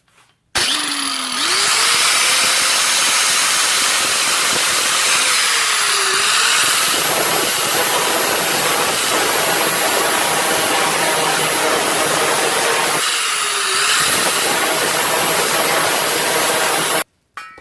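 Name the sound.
grinding wheel grinding down an LS oil pan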